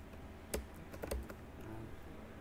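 Several computer keyboard keys are pressed in a short cluster for a Ctrl Alt U shortcut, a few crisp close clicks within about a second, then quiet.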